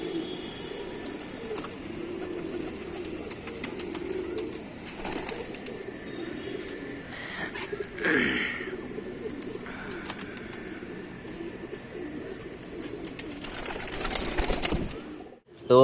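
Racing pigeons of a fine breed coo softly in their loft, with a brief flutter of wings partway through and faint background noise, fairly quiet and steady throughout.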